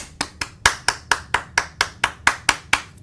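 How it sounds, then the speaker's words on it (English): Hands clapping during a live drive-home radio show, about a dozen crisp, distinct claps in a steady, slightly uneven rhythm, close and fairly loud with no talking over them. "clap your hands."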